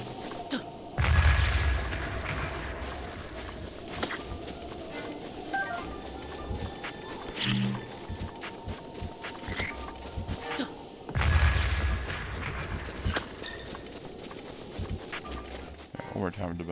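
Bomb blasts in The Legend of Zelda: Breath of the Wild, two heavy booming explosions about ten seconds apart standing out over steady game ambience, with a person talking between them.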